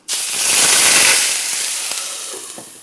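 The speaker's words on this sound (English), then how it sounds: "So our oil is nice and hot, and we're gonna add our dumplings in." Dumplings drop into hot oil with a sudden loud sizzle, a bright crackling hiss that swells and then slowly fades, with faint pops.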